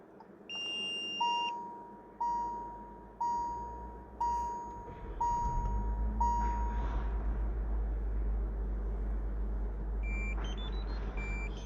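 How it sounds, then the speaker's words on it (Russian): A Sher-Khan alarm fitted to a Hyundai Solaris chirps in six evenly spaced beeps, then the engine remote-starts and settles into a steady low idle, with further short beeps near the end. "Все, машина успешно завелась."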